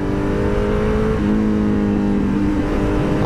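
A Kawasaki Z900 BS6 2022 superbike engine runs under load while riding, a loud, steady, close drone with a shifting pitch and a brief uneven stumble as it misfires.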